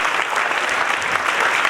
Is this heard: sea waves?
no